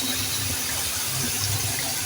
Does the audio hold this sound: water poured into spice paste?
yes